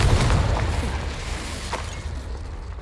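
Fiery Confringo spell blast from the Hogwarts Legacy video game: a loud, dense burst that booms at the start with a couple of sharper cracks, then rumbles and fades over a few seconds.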